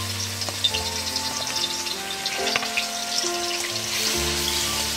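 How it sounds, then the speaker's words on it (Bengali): Ground garlic fries in hot oil with a steady crackling sizzle, and light clinks and tonal kitchen sounds come and go around it, close and moderately loud, with no voices. "এবারে আমি দিয়ে দেব বেটে রাখা রসুন"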